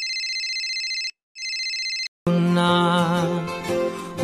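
An electronic phone ring repeats in two bursts with brief gaps, then gives way abruptly to loud music.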